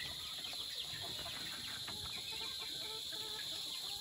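Eight-day-old gamefowl chicks, including Boston Roundheads, cheep and peep in a steady, high-pitched chorus, close to the mic and without talk.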